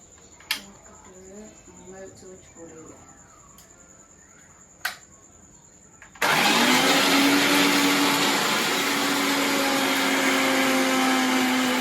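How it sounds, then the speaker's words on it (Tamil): An electric wet grinder churns vada batter made with water, coconut and salt, starting abruptly after a few clicks and some quiet talk, then whirring loud and steady. "கட்டி அரைக்காம தண்ணி அரைங்களா"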